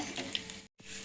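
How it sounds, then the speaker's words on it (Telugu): Chana dal frying in a pan for tamarind chutney gives a steady close sizzle and crackle with a brief gap near the end, no talking. "శనగపప్పు వేగుతున్నాయి"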